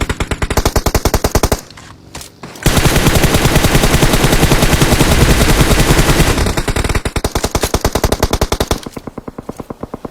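Loud automatic gunfire in PUBG Mobile, rapid sustained bursts of shots with a dense continuous stretch in the middle and sharp rhythmic volleys before and after.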